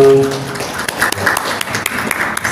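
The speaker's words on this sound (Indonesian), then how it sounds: "Kita berikan aplaus lagi untuk ketiga narasumber kita" Audience at a national schizophrenia symposium applauds three speakers, a moderately loud patter of claps with scattered sharper hits, following a brief voice at the start.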